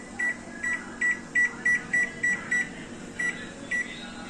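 An oven being set to convection mode gives a series of about a dozen short, sharp electronic beeps, some spaced evenly and some in quick pairs, over a low background hum.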